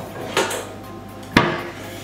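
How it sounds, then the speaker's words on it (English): A small cooking pot is handled in a kitchen, giving two sharp metallic clanks about a second apart against near silence. "So we get a little pot."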